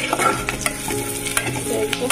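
Potato and pointed gourd frying in a pan, with a dense close sizzle and crackle and scattered stirring scrapes throughout, no voices present.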